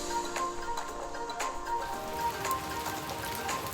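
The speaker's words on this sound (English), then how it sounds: "As you can see, it has started raining." Rain patters steadily on a wooded hiking trail in Hot Springs National Park, forming a soft continuous hiss with scattered drops. Faint tonal sounds drift in the background and nobody speaks.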